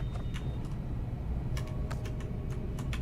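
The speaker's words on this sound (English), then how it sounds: "This looks like a 1980s IBM typewriter keyboard" Scattered keystrokes on a keyboard resembling a 1980s IBM typewriter keyboard, a few sparse clicks early and then a quicker cluster of sharp taps, over a steady low background hum.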